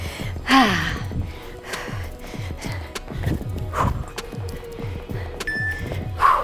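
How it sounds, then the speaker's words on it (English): Heavy, rhythmic panting and gasping from a person catching breath between cardio interval exercises, with repeated thuds of landing footsteps and some strained exhales, fairly close throughout. "I hope you're breathing as hard as I am."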